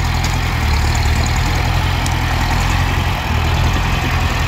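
A heavy truck hauling a sugarcane trailer rumbles loudly and continuously from inside the cab, its engine drone steady throughout with no clear break or rev change for the gear shifts.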